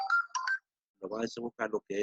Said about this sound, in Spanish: qué me está sonando el teléfono? Estoy a apagar